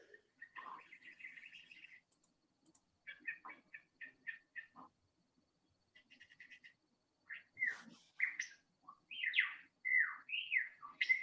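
Male bird singing in the Blue Mountains, its white-crested head raised: bright, varied whistled phrases and chirps in short bursts separated by pauses, growing richer and more swooping toward the end, close and clear with no talking.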